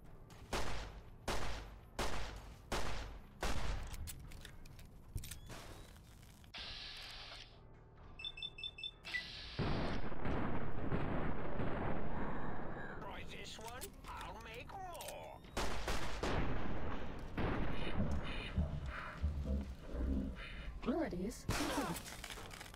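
Gunfire in Fallout New Vegas: a run of sharp, loud shots at a steady rhythm opens, then come dense bursts and crashing impacts that blend into heavy sustained noise, with short gaps between the volleys.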